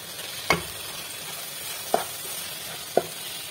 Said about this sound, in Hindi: और इसे फ्राई कर लेंगे अच्छे से।